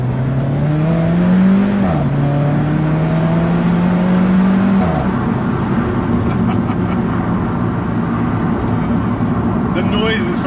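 A high-performance sports car engine revs loudly and close by, its pitch climbing in two sweeping pulls before settling into a steady, droning roar inside the car.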